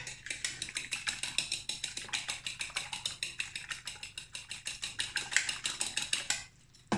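A whisk beats eggs for an omelette in a bowl, a fast, steady clatter of rapid metallic ticks running several seconds before stopping abruptly near the end, with no speech over it.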